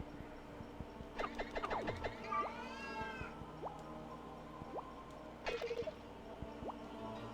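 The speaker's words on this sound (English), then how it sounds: "Of course, my own orange cat needs to meow now." An orange house cat meows several times indoors, with close, drawn-out calls near the start and again later, separated by quieter stretches with a few small clicks.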